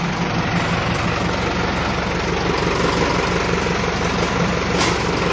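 A truck engine idles steadily up close, a continuous low rumble with an even rhythmic throb and no breaks or talk, at a loading site during overtime work.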